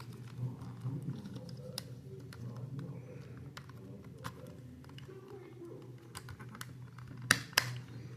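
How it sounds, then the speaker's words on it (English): Plastic parts of a Transformers Legacy Menasor toy snap into place, producing sharp, scattered clicks, with a louder pair near the end, over soft background hum. "You should hear that click."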